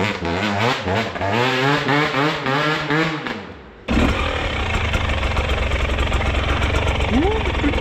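A person talks over a running enduro motorcycle engine, then the audio cuts to a louder, steady motor drone with rough mechanical noise continuing to the end.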